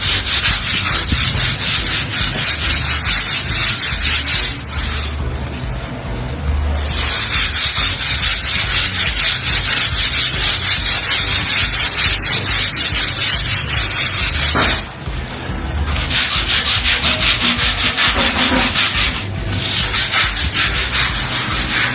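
Someone rubs down white spots on a freshly coated wall before its second coat: loud, continuous rhythmic scraping close by, with a few brief pauses and no talk.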